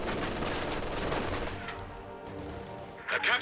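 Machine gun fire crackles in the Company of Heroes 2 war game, dense rattling bursts filling the clip with a fresh volley near the end.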